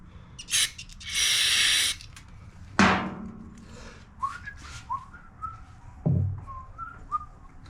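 Aerosol cleaner sprayed through vents and circuits, giving a brief puff and then a steady, close hiss lasting about a second, followed by a sharp clank, faint squeaky chirps and another knock.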